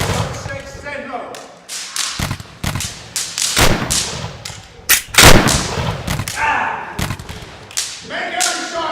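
Musket gunfire in a period film battle scene, a rapid scatter of sharp cracks and thuds, some near and some distant, under shouting voices.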